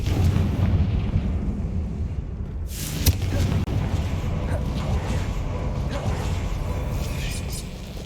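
A Confringo blasting-curse explosion from the Hogwarts Legacy video game: a sharp burst about midway through, set against a constant noisy background of game sound and faint voices.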